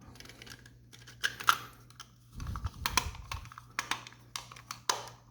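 Clicking and fiddling with the button of a Logitech MX Master 3 mouse during a broken-button repair, a scattering of sharp close plastic clicks and taps with a brief handling rustle in between.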